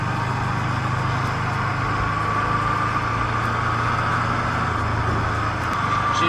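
The engine of a Chatenet CH32 microcar runs as it pulls away, a low steady drone heard from inside the cabin with a faint whine above, continuous and moderately quiet with no talk.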